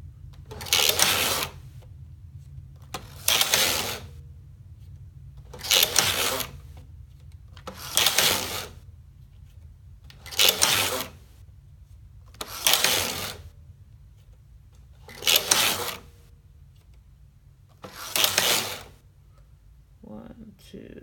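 A sock knitting machine runs eight regular rounds of knitting with automatic wrapping. Each pass is a rattling, clicking mechanical whirr lasting about a second, separated by pauses of a couple of seconds. The bursts are close and fairly loud against quiet background noise.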